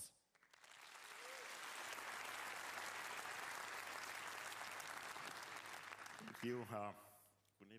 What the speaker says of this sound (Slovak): Prosím, privítajte Uriho Levina veľkým aplauzom.